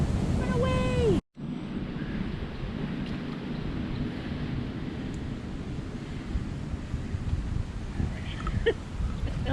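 Wind blows steadily at a lakeside state park, a broad rushing roar buffeting the microphone throughout after a brief whistle-like sound and a sudden cut near the start.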